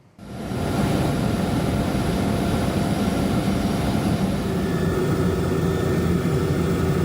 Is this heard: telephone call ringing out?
no